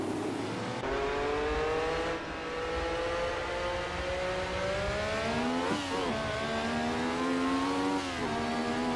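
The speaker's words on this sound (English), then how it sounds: "it's a different sound altogether. So this is Nikki Lauda's Ferrari" Niki Lauda's Ferrari racing car in Assetto Corsa, its engine note climbing steadily through the gears with brief dips at upshifts, a loud continuous rising whine heard alone.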